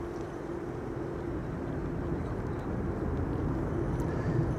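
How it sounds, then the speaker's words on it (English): A KLM Boeing 787-10 Dreamliner arriving at Amsterdam Schiphol during a storm, a steady low distant jet rumble that swells slightly toward the end against wind noise. "a 787-10 Dreamliner KLM flight 741 arriving from Cartagena in Colombia"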